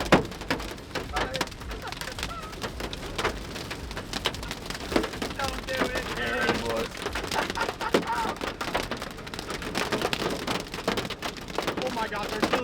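Hail from a storm core pelting a vehicle, a dense, continuous rattle of sharp impacts on the body and roof, with voices faintly under the din.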